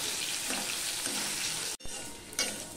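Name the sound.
frying besan-coated taro in a kadai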